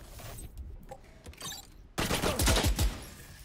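Gunfire in the tactical shooter Valorant, with scattered faint shots early on, then a loud rapid burst of automatic fire that continues until the end.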